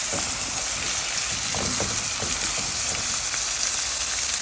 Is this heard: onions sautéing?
yes